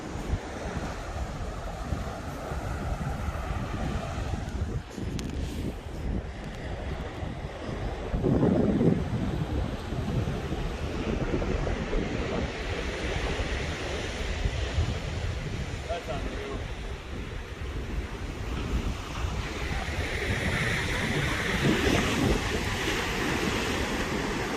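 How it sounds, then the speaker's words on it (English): Strong wind buffets the microphone over steady breaking surf at a beach, a continuous close roar of gusts and waves that barely lets up. "Sorry about the wind."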